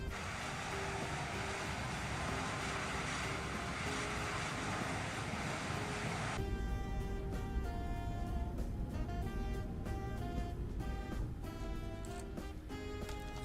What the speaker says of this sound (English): Reverse. Reverser's on.